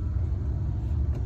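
Steady low car engine rumble from inside a vehicle during a driving lesson, running continuously and fairly loud with no clear revving.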